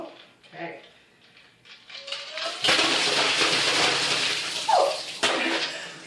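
Water from a makeshift bucket poured over a person's head during an ice bucket challenge: a loud, broad splashing rush lasting several seconds, then a gasp, with faint rustling beforehand.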